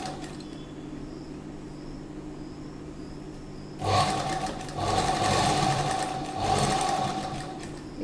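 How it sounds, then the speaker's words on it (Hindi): Domestic sewing machine running steadily while stitching a doubled seam on a slip, a low hum at first, then louder bursts of fast stitching in several runs, close and without talk. "इस सिलाई को हम डबल कर लेंगे ताकि ये मजबूत हो जाए।"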